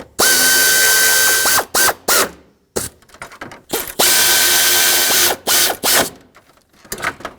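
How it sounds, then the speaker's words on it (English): A ratchet tightens 10mm alternator bolts on a 2012-2020 Nissan Pathfinder, giving two loud, close bursts of rapid clicking with short pauses and a few more brief clicks between. "I'm going to tighten this one up first."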